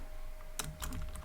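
Quick burst of clicky keystrokes on a computer keyboard while coding in Python, a few close taps clustered in the second half after a quiet pause.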